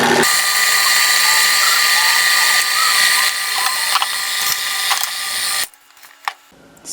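Flour, baking soda and cinnamon are stirred together by hand in a bowl, with a steady, close scraping and rubbing texture that runs for several seconds, then cuts off into near silence with a couple of brief knocks.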